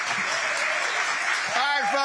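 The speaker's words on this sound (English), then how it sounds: "Keep clapping." Audience clapping and applause at a town hall held in a Baptist church, a steady wash of many hands, with a voice starting to speak over it near the end.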